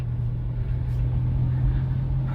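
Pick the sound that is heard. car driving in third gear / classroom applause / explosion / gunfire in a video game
car driving in third gear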